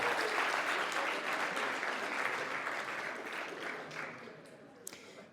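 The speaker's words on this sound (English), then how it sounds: "Let's give it up, a big round of applause." Applause from a comedy show audience: a dense wash of clapping that starts full and gradually thins out over several seconds, with a few stray claps at the close.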